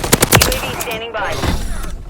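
Automatic weapon fire bursts in the Call of Duty Modern Warfare III beta, several rapid loud rattles early then scattered shots, mixed with battle noise and radio-style voices.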